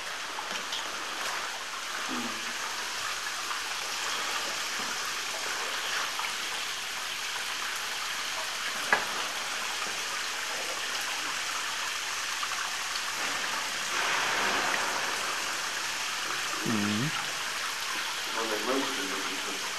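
Steady broadband rush of water flowing in a mine in the Harz mountains, continuous throughout, with a few faint voices and brief knocks in the background.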